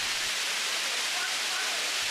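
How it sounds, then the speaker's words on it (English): Kempty Falls, a branched mountain waterfall near Mussoorie where one column of water splits into several falling streams, roars as a dense, even rush of water without any break or voices. "Kempty Falls are a stream of branched waterfall where a single column of water branches into a number of falling streams."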